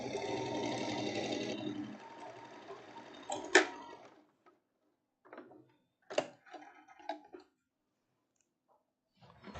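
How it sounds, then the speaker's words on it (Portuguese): A sewing machine runs in one steady burst stitching the back seam of elastic-waist trousers, then stops, followed by a few brief clicks and short mechanical bursts, close and fairly quiet. "costurando aqui o meio costas"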